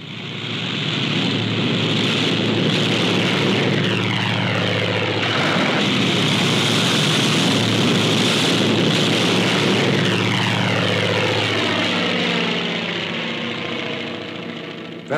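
Propeller warplane engines from a 1945 Pacific War newsreel drone loudly and steadily overhead, a dense rumbling roar that swells slightly in the middle and holds throughout.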